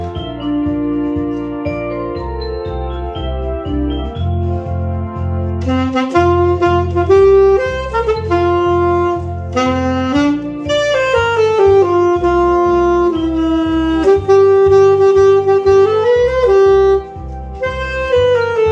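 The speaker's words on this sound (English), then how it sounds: "this music was played by U.S. Navy band" The U.S. Navy band plays the patriotic march "Columbia, the Gem of the Ocean," with full brass melody over a steady oom-pah bass, loud and continuous with no voices.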